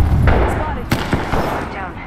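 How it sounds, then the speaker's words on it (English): An explosion in Apex Legends shooter gameplay, with a sharp blast near the middle followed by a second thud, over dense game noise and a steady battle rumble. "Throw my grenade out."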